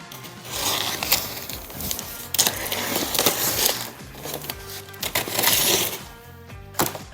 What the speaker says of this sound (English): So first step is we're going to cut open the box.